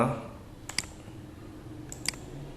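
Mouse clicks in computer software, two quick double-click pairs spaced about a second apart, sharp and close, over a faint background hum.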